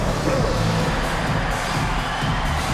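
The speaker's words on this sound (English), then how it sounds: "Let's give a round of applause for your Clippers." Broad, steady crowd noise of cheering and murmuring from a large basketball arena audience in the video game NBA 2K26, continuous and fairly loud throughout.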